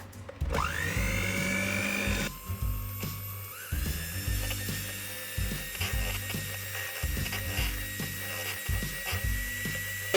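Electric hand mixer whipping egg whites with cream of tartar at medium speed, a steady loud motor whine running throughout with rhythmic clattering as the beaters knock against the bowl.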